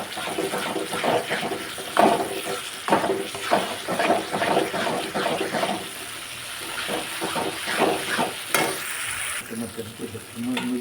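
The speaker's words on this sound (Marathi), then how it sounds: "हे चांगलं तेल सुटोस तर परतायचं" Mutton masala sautéed in oil for dhaba-style mutton fry, loud close sizzling with repeated rhythmic stirring scrapes in the first half, then a quieter simmer with a few clanks.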